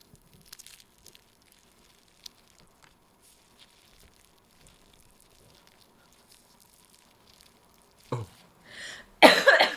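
A woman coughs a couple of times up close near the microphone at the end, after a long quiet stretch with only faint clinks and rustles at a table.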